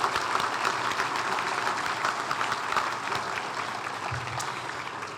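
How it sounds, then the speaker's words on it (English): An awards-ceremony crowd at a regional chamber Athena Award event claps for a group of nominees, a steady moderate patter of applause heard from a distance in a large room, fading slightly toward the end. "Can we please have a round of applause for our final group of nominees?"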